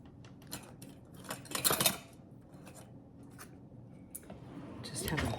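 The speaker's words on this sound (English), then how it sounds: "So we'll put a nice little lid on that." A small black lid is set onto and closed over a jar of homemade holy basil body butter, giving a few close plastic clicks and scrapes, with a louder cluster of handling noise in the middle and near the end.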